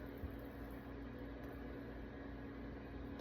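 A stand mixer running on low speed with a paddle attachment, giving a steady, even motor hum with no change in pitch and no talking.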